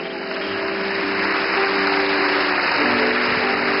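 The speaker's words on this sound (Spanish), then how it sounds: "Un aplauso a Dios que es fiel." A church congregation applauds in a steady, dense wash of clapping that grows slightly louder and holds evenly throughout, with no voices over it.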